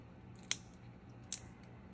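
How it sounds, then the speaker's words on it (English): Scissors snip twice through tape on a handmade pop-up card, two sharp close crisp cuts about a second apart over a quiet background. "Then you can just come back with your scissors"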